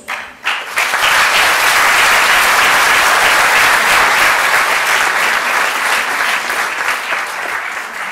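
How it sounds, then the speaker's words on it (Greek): A school audience applauds the teachers at an end-of-year event at a Greek secondary school in Tripoli, a dense, loud burst of clapping that rises sharply after a brief lull and holds steady, fading slightly at the end. "Θα θέλαμε λοιπόν το πρώτο χειροκρότημα της βραδιάς να ανοίξει σε αυτούς"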